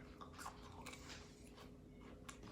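Close, crunchy chewing of sprouted mung beans, with steady bites and a dense mouthful of crisp crackle running continuously without pause.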